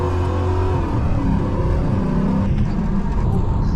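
A 1978 El Camino engine with a 3.73 rear gear drones and revs steadily from inside the vehicle, its pitch shifting as it works through overdrive, third and second gears, with constant road rumble.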